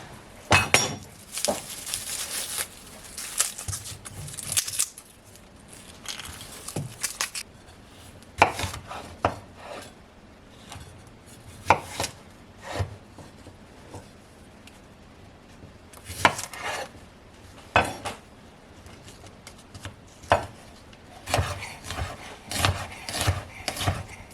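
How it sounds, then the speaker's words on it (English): A knife chops garlic on a board in a kitchen, with irregular bursts of quick, close taps and clinks of dishes and cutlery scattered throughout, some passages busy and others sparse. "So I'm gonna chop up some garlic."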